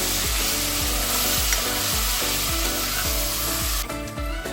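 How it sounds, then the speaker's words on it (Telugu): Mutton keema with mint and masala fries in a pan, a loud continuous sizzle under a steady rhythm of scraping stirs, close up, then a brief drop in the hiss near the end. "మటన్ కొంచెం అందులో మగ్గి కొంచెం లైట్గా ఫ్రై అవ్వాలి"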